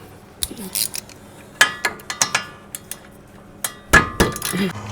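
Metal tools clink and clank while a brake caliper comes off a Chevrolet Trailblazer during a wheel bearing job, a series of sharp, close knocks and rattles with brief quiet gaps between them.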